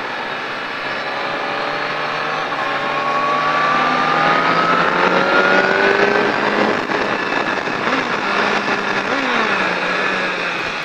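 A Triumph Daytona 675 sport motorcycle accelerates hard on a racing circuit at La Ferté-Gaucher, its high engine note climbing steadily through the gears, loud and sustained, briefly dipping and rising again near the end, with no talking.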